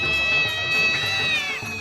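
A black cat lets out a loud, close, drawn-out meow that wavers slightly in pitch and tails off near the end, in a TV comedy scene.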